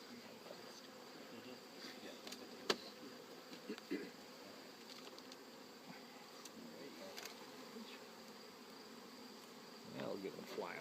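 A steady insect buzz of many honeybees humming around an open hive fills the air, with a few louder passes close by and faint voices in the background.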